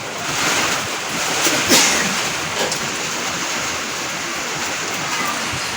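Strong typhoon wind blowing during Typhoon Uwan, a loud, steady broadband roar with gusting surges, close to the microphone and buffeting it, with no talk over it.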